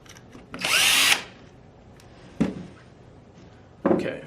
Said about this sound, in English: I'm going to be using my drill with a 1/8 bit just to kind of speed things up a little bit